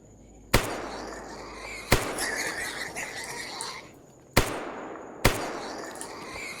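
Pistol gunfire in the video game Escape From Pripyat, four sharp loud shots spaced irregularly, each trailing off in a long echoing decay, with a faint high ambient whine between them.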